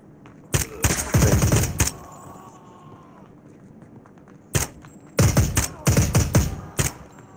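Gunfire in the Onward VR video game played on a Quest 2: two loud bursts of rapid automatic shots, the first early and the second later and longer, separated by a quieter pause.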